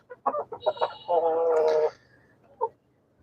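Roosters and hens, about four and a half months old and laying, in a rooftop garden: a few short, close clucks, then one sustained, strained call lasting under a second, followed by a last brief cluck.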